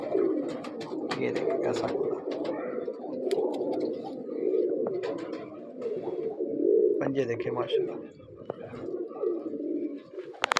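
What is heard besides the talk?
Teddy breeder pigeons cooing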